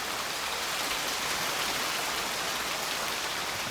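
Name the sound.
heavy rain pouring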